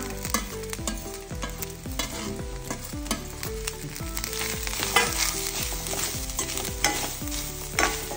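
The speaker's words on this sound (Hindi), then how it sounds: "कांदो जसो ब्रावन जालो तितून सोय घालून घेवया आणि सोयूय बरी ब्रावन जायसर भाजून घेवया" Chopped onion and grated coconut fry in a pan for a Konkani-style fresh pea ross, sizzling steadily while a spoon scrapes and stirs against the pan in a regular rhythm, close and fairly loud with no talking.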